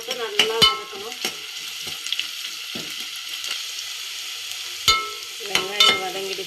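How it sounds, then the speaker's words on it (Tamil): Garlic and onion sauté in a pan, browning for a fish curry, under a steady low sizzle. Sharp metallic scrapes and clanks of a spoon stirring break through at intervals, close and fairly loud, with no voices. "பூண்டு போட்டு நல்லா வதக்கணும்."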